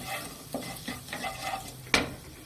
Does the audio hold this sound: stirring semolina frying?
yes